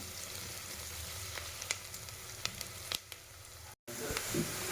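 Tomato with ginger-garlic paste and onions frying in a pan for ghee rice, a steady close sizzle with a few sharp crackles and pops, briefly cutting out near the end before the frying resumes.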